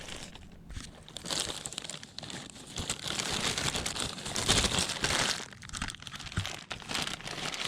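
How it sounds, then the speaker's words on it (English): A plastic bag crinkles and rustles as it grips and turns an oil filter being removed from a Porsche 911 (991) during an oil change, a close, continuous crackle with louder bursts and no talk. "I'll use this plastic bag to grab the filter and turn it over"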